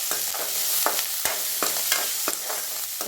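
Onions and salt sautéing in a pan for a cauliflower fry, a loud close hissing sizzle punctuated by rhythmic spatula scrapes roughly every half second, no speech.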